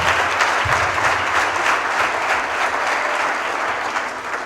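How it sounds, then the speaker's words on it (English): Steady audience applause for an accreditation accomplishment at Abaarso school, full and close clapping with little talk, tapering slightly near the end. "they all deserve a real round of applause for this accomplishment"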